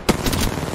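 Rapid automatic gunfire from a weapon in Apex Legends, a burst of close, loud shots fired in quick succession with no talk over it.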